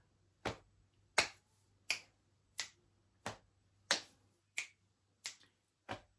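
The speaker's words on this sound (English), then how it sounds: "Slap your legs, clap, snap with your right hand, and snap with your left." Nine crisp, evenly spaced finger snaps ring out alone in a quiet room, forming a steady body-percussion beat; the leg slaps and claps are not distinct.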